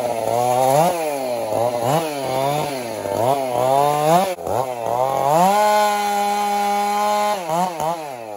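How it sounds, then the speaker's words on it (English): A Stihl 441 chainsaw cuts firewood, its loud engine near and alone, revving and bogging in repeated surges as the chain bites into the wood, then holding a steadier high whine toward the end. "need to adjust the carburetor on that saw a little bit."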